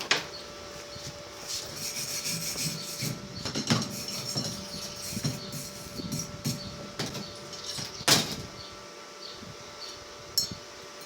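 A wire brush scrubs slag off a weld on a metal stove box in a steady run of close scratchy strokes, with a few sharper metallic scrapes standing out.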